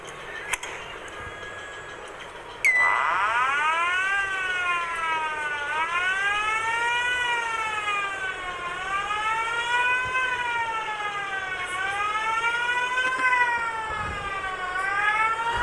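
A loud safety siren sounds outdoors after a brief click, its wail sweeping up and down in a steady repeating cycle over faint background noise, with no voices.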